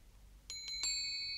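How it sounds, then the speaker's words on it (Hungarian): A hand bell rings in a Nutcracker children's stage play, three quick bright strikes followed by a sustained ringing tone, faint and without talk. "Megint csengetnek. Rossz Ümeyer bácsi, ő rázza a csengőt."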